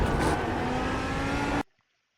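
A Lamborghini Huracan GT3 in iRacing at Virginia International Raceway roars loudly under throttle, a dense, close engine note held for about a second and a half before cutting off abruptly into silence.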